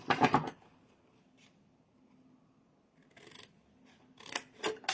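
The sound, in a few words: scissors cutting for table decoration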